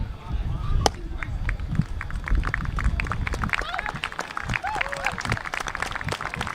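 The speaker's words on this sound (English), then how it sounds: "let's give our teachers and educators a well-deserved round of applause" Crowd applause with dense clapping fills the clip, mixed with murmuring voices and occasional cheers rising over the noise.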